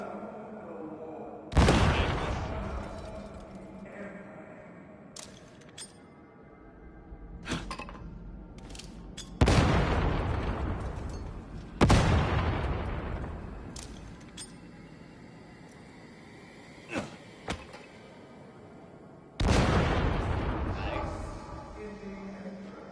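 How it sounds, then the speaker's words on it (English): Grenade blasts in the video game Warhammer 40,000: Darktide sound as several loud, sharp booms with decaying tails spaced through the stretch, mixed with smaller clinks and game effects while a person talks. "Grenades can be equipped and thrown."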